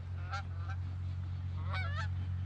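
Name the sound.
geese honking during goose hunt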